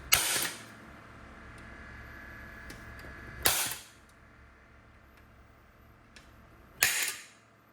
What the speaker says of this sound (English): We can use this center punch here. We can punch these holes.